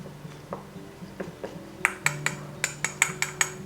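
A spoon of potato starch goes into baby food for Japanese oyaki, with a run of bright, close clinks of a utensil tapping on a dish, sparse at first, then quick and regular.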